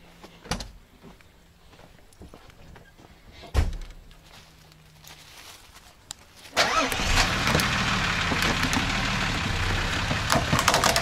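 Off-road vehicle on a rough trail: a few quiet clicks and knocks, then at about six seconds the engine suddenly comes in loud and close and keeps a steady, rough roar to the end.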